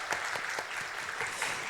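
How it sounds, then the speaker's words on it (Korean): Church congregation at a Seoul Samgwang Church new-year dawn prayer service clapping in praise, a short burst of scattered, fairly quiet handclaps with audible individual claps over a soft room tone. "우리 하나님께 영광의 박수 올려드립니다"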